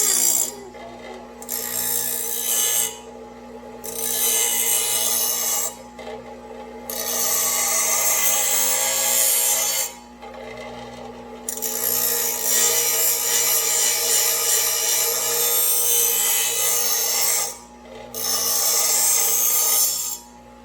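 A hand file sharpens a Ryobi lawn mower blade in bursts of rasping strokes broken by short pauses, over a steady low hum nearby.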